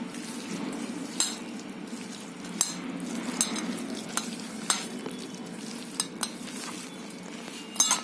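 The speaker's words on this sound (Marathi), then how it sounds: "आलं लसूण पेस्ट मसाला असे हे करून मी आता हे फ्राय करणार" Chicken coated with ginger garlic paste, asafoetida, salt and masala fries in oil, a low steady sizzle broken by sharp utensil clicks and taps against the pan at irregular intervals.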